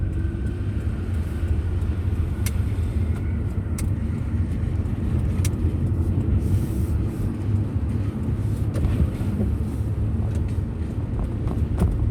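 Steady rumbling wind noise buffets in through a partly lowered car window, a continuous broadband roar with occasional faint clicks, no talking.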